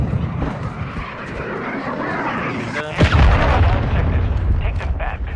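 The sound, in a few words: cruise missile strike in a video game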